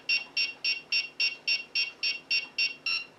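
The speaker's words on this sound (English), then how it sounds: "When that beeping sound stops," WL Toys V911 helicopter radio transmitter beeping: about a dozen short, evenly spaced high electronic beeps over three seconds, clear and close with no talk.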